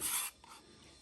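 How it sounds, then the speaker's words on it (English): Short hand-sanding strokes with a sanding block on wood, working out a burn mark. One brisk, louder rasping pass is followed by fainter scratchy rubbing, close up and with no talking. "Here I got a little burn mark, I just want to sand it out."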